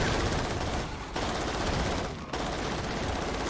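Heavy machine gun fire in the video game Natural Selection 2, a dense continuous rattle of rapid shots with two brief pauses in the stream.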